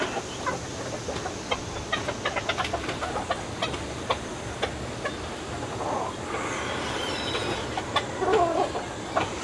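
Chickens cluck around a rural home in the province, scattered clucks near and far over a steady background rumble, with a louder burst of clucking toward the end.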